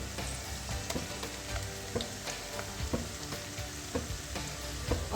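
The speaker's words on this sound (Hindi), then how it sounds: "और लहसुन के पेस्ट की मैं प्याज के साथ बुनाई करूँगी" Garlic paste and softened onions fry in a pan, a steady dense sizzle with occasional stirring clicks and scrapes, close and continuous with no talking.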